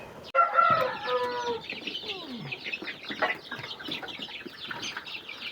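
Chickens and chicks on a poultry farm: a rooster-like crow opens over busy clucking and cheeping, and the flock chatters on close and continuous.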